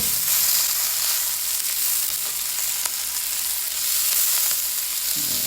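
Shrimp fried rice with peas and Chinese sausage fries in rendered fat and avocado oil, giving a loud, steady, close hiss of sizzling that holds evenly throughout with no voices.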